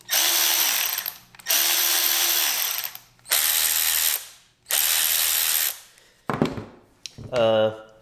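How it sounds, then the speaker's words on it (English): An AOBEN 12-volt cordless ratchet whirs in four loud, roughly one-second bursts, each cut off sharply by its quick electric brake, then gives a few shorter spins. A brief voice is heard at the end. "So the AOBEN has a pretty quick electric brake. Look how quick this stops."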